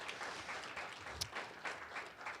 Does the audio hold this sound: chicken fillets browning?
no